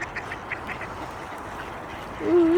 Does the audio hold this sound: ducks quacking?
yes